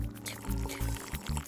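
A cartoon animal drinks at a water hole, with a quick run of wet gulping pulses in an uneven rhythm over soft tonal background sound.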